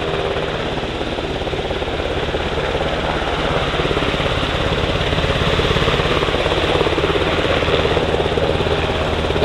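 US Coast Guard MH-60 Jayhawk and MH-65 Dolphin helicopters hover during a search-and-rescue demonstration at an airshow in London, their loud, continuous rotor thrum and turbine roar pulsing steadily without a break.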